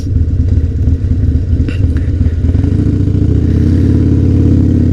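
Harley-Davidson Sportster motorcycle engine rumbling loud and close, a deep throbbing idle with a rhythmic lumpy pulse and a slight rise in revs partway through, no voices.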